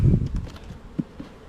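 A low, faint buzzing of honeybees close by at a hive, with a few soft bumps and thuds over the drone.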